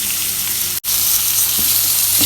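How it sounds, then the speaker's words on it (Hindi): Cucumber goes into a hot frying pan with carrots for BBQ rice, giving a loud, close, continuous sizzle with one brief cut near the start and faint stirring scrapes later on. "30-40 सेकंड के बाद अब हम इसमें खीरा डालेंगे।"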